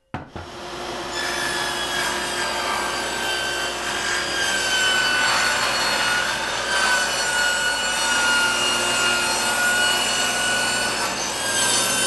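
A saw rips steadily through 3/4 inch plywood, a continuous rasping cut with a high whine lasting the whole stretch, close and loud, with no voices.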